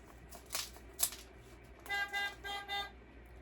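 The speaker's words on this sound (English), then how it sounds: "Press the horn to hear it beep." A toy tractor horn beeps in a short bright run of three or four electronic toots, fairly quiet, with lighter scratchy clicks just before.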